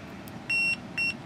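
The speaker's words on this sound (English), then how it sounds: "beep mode for continuity checking" Two short, high electronic beeps from a Fluke multimeter in continuity mode, the first longer than the second, with a faint background hiss between them.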